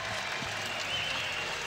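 Home crowd at a Wyoming college basketball arena, in a game against Utah State, cheering and applauding on their feet after a pump-fake play: a steady, dense roar of cheers and claps filling the whole clip.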